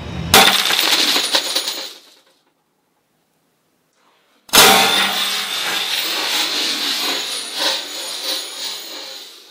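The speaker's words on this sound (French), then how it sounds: "celle qui prend un marteau et qui veut faire un trou dans la bouteille" A hammer strikes a glass bottle in an attempt to punch a hole in it, giving loud, sharp impacts with crunchy, scraping glassy noise, a short silent pause, then another sustained burst of grinding and clattering glass.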